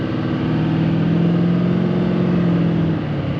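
A diesel pickup truck accelerating on the road, with a steady, loud engine drone and a gradually rising hum that holds evenly before easing slightly at the end, no talking.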